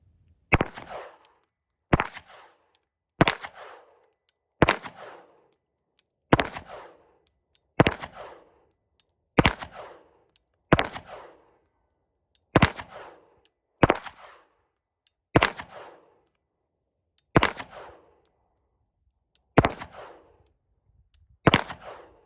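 Single gunshots from a 2022 FN High Power pistol at a shooting range, about fifteen sharp, loud cracks fired at a steady pace of roughly one every one and a half seconds, each with a short ringing decay and no talk.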